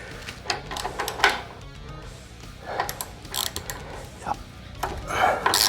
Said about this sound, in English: So we're going to loosen the shock bolts.